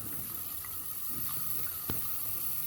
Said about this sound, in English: let's just fill it up with water till it's full